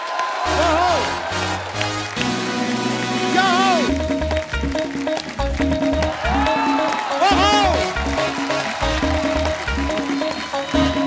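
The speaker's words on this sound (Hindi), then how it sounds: "सो आप सबकी जोरदार तालियों के बीच स्वागत करना चाहूंगा" A studio audience on a comedy talk show applauds and cheers loudly to welcome guests, with a blaring band tune playing over the sustained clapping throughout.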